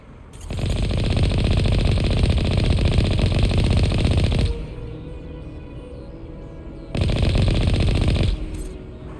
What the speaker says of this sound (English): Overheated the guns.